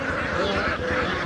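Domestic ducks at a village poultry market in Bangladesh give a burst of nasal, overlapping quacks, close and fairly loud, over market background noise.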